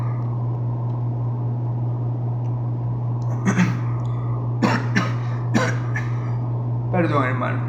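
Several sharp coughs from a man preaching a sermon, spaced irregularly over a steady low hum in a room, coming in quick bursts of one or two near the microphone.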